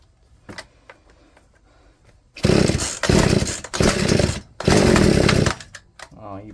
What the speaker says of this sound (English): Okay, start it up again.